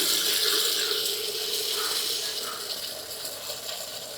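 Water pours in a steady, splashing rush close by. It fades slightly toward the end, and no one speaks.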